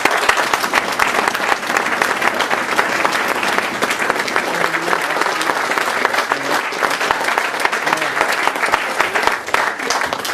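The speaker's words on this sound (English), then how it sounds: "they deserve a massive round of applause" Audience applause at a football club presentation night, sustained dense clapping from a large indoor crowd, loud and steady for the whole stretch.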